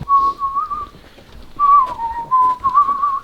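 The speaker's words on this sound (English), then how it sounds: "caught me whistling" A man whistles a tune indoors in a music producer's studio, clear and close. He carries a few wavering melodic phrases with a short pause between them and no talk over them.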